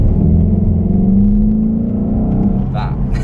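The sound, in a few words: VW Golf GTE plug-in hybrid accelerating in GTE mode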